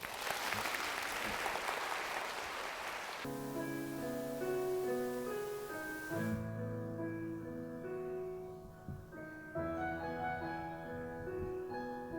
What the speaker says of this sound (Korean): 박수 한번 줘주세요